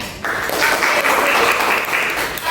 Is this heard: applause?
yes